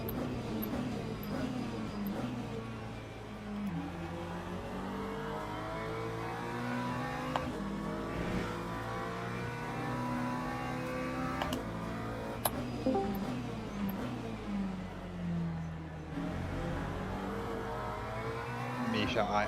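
Race car engines in the racing game Le Mans Ultimate, in an overtaking fight at Daytona: sustained, layered engine drone with rising and falling revs and occasional sharp clicks, steady and fairly loud throughout, with no clear talk.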